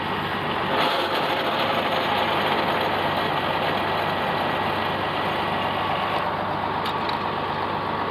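A tractor engine runs steadily at close range, a continuous low rumbling drone with a faint rattle throughout, after something has come loose in the tractor while baling hay.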